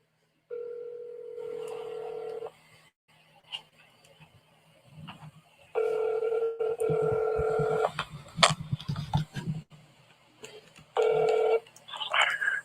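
Telephone dialing tones from a recorded phone call: steady dial tones and keypad beeps in several long stretches, broken by clicks and faint voices.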